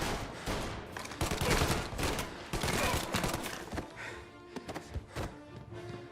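A rapid fusillade of gunshots in a Mafia: Definitive Edition shootout, sharp cracks piling up in fast overlapping bursts, then easing into a handful of separate, spaced shots near the end.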